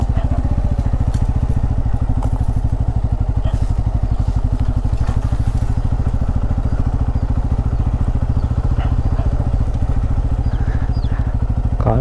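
A Bajaj Pulsar N250 motorcycle is ridden on the road, its engine a loud, close, rapid, steady throbbing with faint clattering above it throughout, with no talking.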